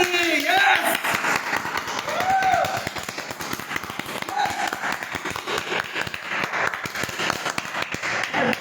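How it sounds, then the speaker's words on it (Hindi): An indoor audience applauds loudly to welcome a guest onto a stage. The dense clapping carries on throughout, with a voice speaking over it at the start and scattered voices under the clapping. "आपकी जोरदार तालियों के बीच में मैं इनवाइट करता हूं"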